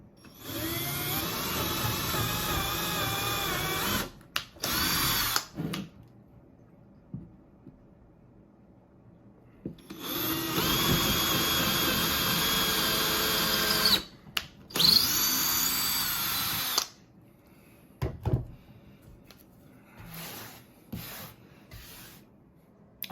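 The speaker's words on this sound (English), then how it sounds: "I'm just going to pre-drill these holes." A power drill pre-drills holes in wood for a parrot platform perch, running in two long loud whirring bursts with short stops and restarts, then a few brief spurts near the end.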